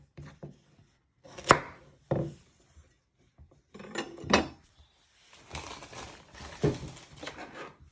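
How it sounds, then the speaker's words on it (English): A kitchen knife chops the ends off carrots on a board. A few sharp, separate knocks stand out from quieter shuffling and light clatter of utensils nearby. "Next step, you're going to prep your carrots. You first chop your ends off."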